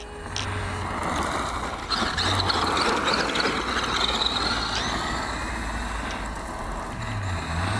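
WLTOYS 10428 RC rock crawler grinding over gravel, a constant crunch of stones under the tires blended with the whine of its small electric motor, close and steady throughout.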